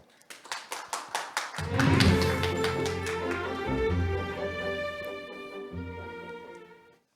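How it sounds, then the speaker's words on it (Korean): Audience at the opening ceremony of the 2023 Biodiversity Forum applauds to welcome a speaker, starting with a few separate claps and swelling into sustained, full applause that continues for several seconds before fading out. "큰 박수 부탁드리겠습니다"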